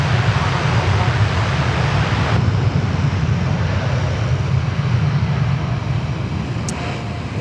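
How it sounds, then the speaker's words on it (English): Roar of a Delta Air Lines Airbus A350 jet at Sydney Airport, a loud, steady broadband engine rumble that holds constant and eases slightly toward the end, with no talk over it. "There we go, the Delta A350, spectacular"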